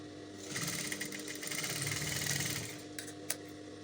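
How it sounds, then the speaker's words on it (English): A sewing machine stitches a seam on a puff-sleeved top in one steady, close run of rapid whirring lasting a few seconds, then stops, leaving a couple of small clicks. "Then I'll match right sides together and go ahead and sew."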